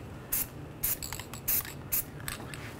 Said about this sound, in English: Just gonna spray the front of the hub surface with some anti-seize.